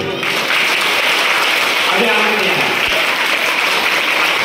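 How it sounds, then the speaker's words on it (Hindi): Dense, continuous applause from an audience at a Shrimad Bhagavat Katha religious discourse, loud and close, with someone speaking briefly over the clapping. "एक बार जोरदार ताली बजाइए।"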